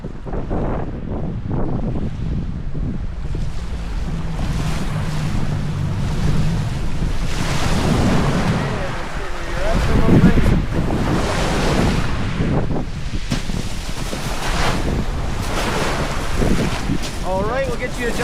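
Ocean surf churns steadily around a Zodiac boat on a beluga whale tour, with heavy wind buffeting the microphone and people talking over the constant wash of waves.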